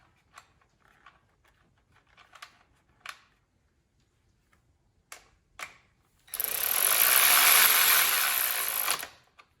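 A cordless ratchet from a Milwaukee M12, Husky, Ryobi and Craftsman comparison drives a fastener back on. A few faint clicks come first, then a loud, steady mechanical whir lasts about three seconds and stops.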